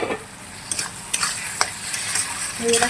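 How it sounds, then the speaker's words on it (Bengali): Pre-fried potatoes being stirred into a spice mixture in a pan, with scraping spoon strokes and clatter over a lively sizzle, close and without voices. "আলুটা দিয়ে একটু কষে নিচ্ছি।"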